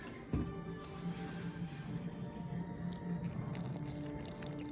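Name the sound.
pouring 2% milk into eggs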